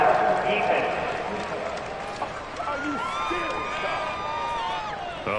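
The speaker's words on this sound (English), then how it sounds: "Well, this crowd does not like that call." A football stadium crowd in a video game reacts to a penalty call with a broad, sustained roar of disapproval that stays steady throughout, with voices and whistles rising over it.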